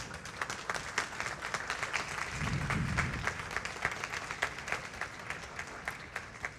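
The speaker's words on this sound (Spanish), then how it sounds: "Dale un aplauso al Señor." A church congregation applauds in a steady, even patter of many hands, heard at a distance and fairly faint, with a low murmur beneath for a moment partway through.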